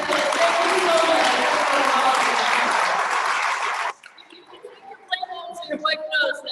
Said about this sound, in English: Please give a huge round of applause for our Kenyon.